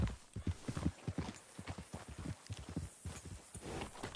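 Horse hooves clip-clop in the video game Red Dead Redemption 2, a close, uneven run of heavy thudding steps that keeps going throughout, with no talk over it.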